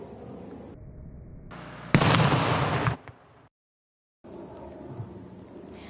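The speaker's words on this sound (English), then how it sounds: "The Volusia County Bomb Squad spent hours last night detonating three ready-made explosive devices in an open field" Bomb squad detonating ready-made explosive devices in an open field: a sudden loud blast with a rolling roar that lasts about a second before cutting to silence, with no talking.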